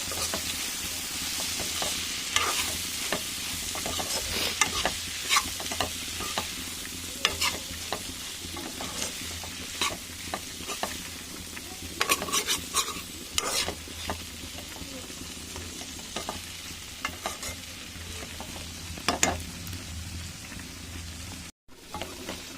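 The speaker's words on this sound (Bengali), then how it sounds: "আমি আবারও একটু নেড়ে দেবো।" Pui (Malabar spinach) greens being stirred and fried in a pan, a steady close sizzle with repeated scraping strokes of the spatula throughout, no talk.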